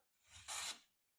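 A hand plane takes wispy wood shavings in a single quiet rasping stroke that swells to a brighter scrape and fades, with no talking.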